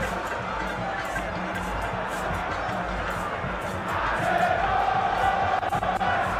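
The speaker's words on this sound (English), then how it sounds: "And the fans will keep on cheering both sides on." Football fans at a Ghana Premier League match between Asante Kotoko and Hearts of Oak cheer and chant in the stadium, producing a continuous loud crowd roar that swells partway through.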